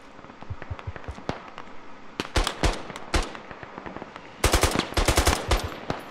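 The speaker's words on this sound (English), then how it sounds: "The mortars are just going off like auto fire right now." Mortars in a first-person shooter game fire off in rapid bursts like automatic fire, sharp cracking blasts arriving in quick clusters that grow louder and denser toward the end, with no voices over them.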